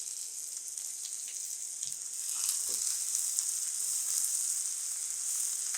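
Two finely chopped onions fry in a spoonful of oil in a frying pan, giving a bright, steady sizzle that swells slightly louder partway through, with a few soft clinks of stirring and no talking.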